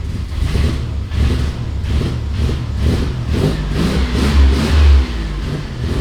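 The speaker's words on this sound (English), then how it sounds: "I can actually rev it up now without it acting like it wants to die" A car engine, warmed up after a rough cold start, revs repeatedly in rising and falling bursts over a steady idle, loud and close with no one speaking.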